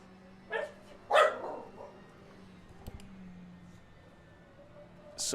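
A dog lets out a couple of short, sharp barks and a yip in the background, separated by quiet gaps, with another brief bark at the very end.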